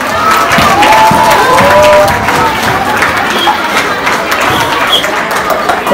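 An audience applauds and cheers at a children's fair held at a Christian gathering, a dense, loud wash of clapping and crowd noise with some shouting voices mixed through it.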